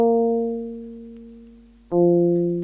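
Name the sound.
Arturia Microfreak synth sequence through Eventide H90 effects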